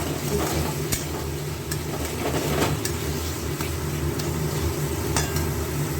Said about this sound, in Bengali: একটু জল দিয়ে দিয়েছি, জল দিয়ে দিলে কী বলো তো, কষানোটা খুব ভালো হয়, লেগে যায় না